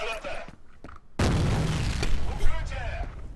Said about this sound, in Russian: Берегись, граната!